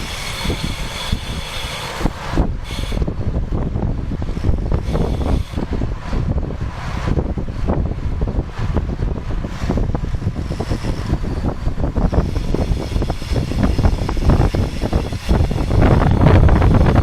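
Headwind buffeting a cyclist's microphone during a 55+ road race at Boulder Roubaix: continuous loud, rumbling wind noise with gusty surges throughout, with no talk.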